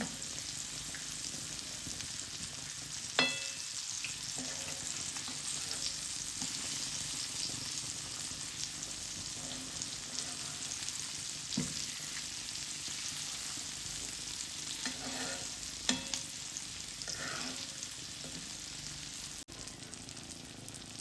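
Pomfret pieces coated lightly in rice flour fry in oil, giving a steady, even sizzle throughout with a few faint clinks of utensils and no talk.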